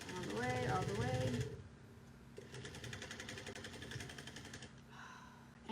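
A sewing machine runs steadily, stitching a seam on a bucket bag with a fast even mechanical whir close by, after someone talks briefly at the start.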